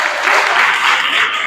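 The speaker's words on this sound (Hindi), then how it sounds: "गिरंग में ताली बजाओ एक बार" Dense, steady applause from a school classroom during a quiz-game session, many hands clapping close by throughout with no pauses.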